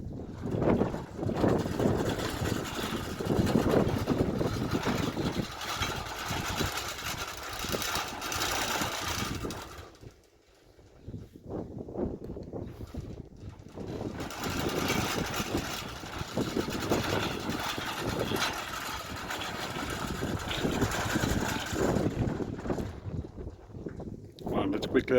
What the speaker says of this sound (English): now we're just going to quickly test it a couple of times just to show you guys